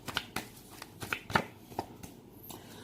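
Tarot cards shuffled and drawn by hand, a series of crisp, close papery flicks and slaps coming in irregular bursts, with a quiet pause near the end.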